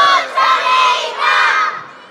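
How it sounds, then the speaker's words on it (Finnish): A large audience at a Duudsonit stage show yells together on cue, two loud surging bursts of massed shouting from many voices, with some children's cries mixed in, fading at the end. "Mä lasken kolmeen ja sen jälkeen huutakaa, ketä te tulitte kattoo."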